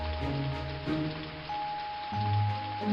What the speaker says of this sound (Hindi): 2 दिन से गांव में भारी बारिश हो रही है।